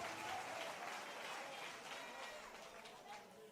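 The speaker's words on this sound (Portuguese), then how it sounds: "Vamos lá, todos aplaudindo ao Senhor" A church congregation applauding, steady crowd clapping at low level, sustained and fairly even throughout with a murmur of voices mixed in.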